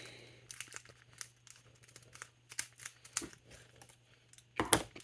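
Children's scissors cut into the plastic packaging of a Pokémon Ultra-Premium Charizard card collection, giving irregular close snips, rustles and crinkles that end in one loud, sharp crackle. No one speaks.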